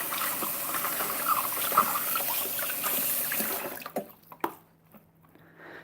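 A funnel being rinsed with running water during homebrewing, a steady close splashing flow for several seconds that stops and leaves a few drips.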